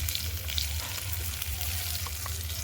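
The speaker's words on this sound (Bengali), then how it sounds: "আলুগুলোকে ভালো করে ভেজে নেব।" Potatoes frying in oil for a village-style chicken biryani, a steady, soft crackling sizzle with a low rumble beneath and no talk.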